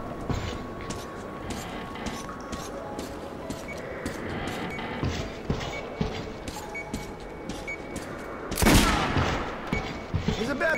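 Gunfire cracks at a shooting range in Metro Last Light Redux, a string of sharp shots over steady background din, with one louder blast near the end.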